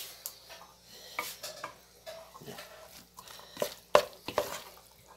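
Pasta sauce stirred in a pot for a simple Sunday lunch, heard as soft scraping and clinks of a utensil against the pot in short irregular bursts, close by.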